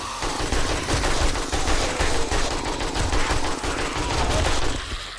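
Dense, continuous automatic gunfire from a video game, loud and sustained for several seconds with rapid overlapping bursts and no talk over it.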